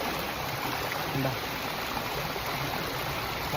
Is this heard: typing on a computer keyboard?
no